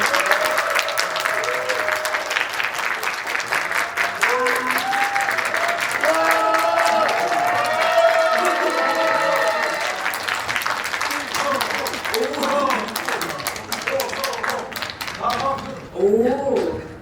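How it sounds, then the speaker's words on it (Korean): Cinema audience at a Coex screening greeting directors and actors with sustained loud applause, mixed with cheers and excited voices that continue as the clapping thins out toward the end. "큰 박수로 맞이해 주세요."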